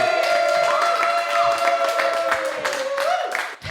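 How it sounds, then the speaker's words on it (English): Comedy club crowd at the Laugh Factory in Chicago clapping and cheering for comedian Elise Fernandez, lively applause mixed with whoops and a brief whistle-like tone, fading near the end. "Get a round of applause going right now for Elise Fernandez"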